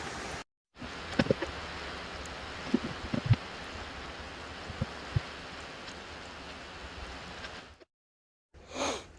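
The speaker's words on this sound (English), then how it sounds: "So just waiting for this rain to ease up a bit more" Steady, soft rain patters down outdoors during a lull in motor installation work, with a few sharper drips and taps scattered through it before it cuts to silence.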